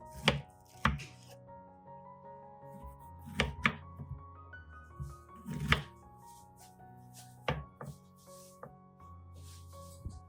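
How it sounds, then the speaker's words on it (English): A knife cuts through a whole unpeeled pineapple, giving several crisp, close chopping thunks at irregular intervals over a steady musical background. "Use the tip of the knife to align and cut."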